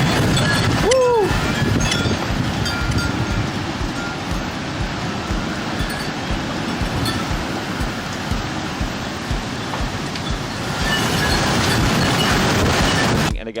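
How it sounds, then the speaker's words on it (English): Intense derecho thunderstorm wind in Iowa roars in a continuous, loud rush, with rattling and clinking debris and a brief whistle-like squeal near the start. "This is an incredibly intense thunderstorm that is ongoing right now"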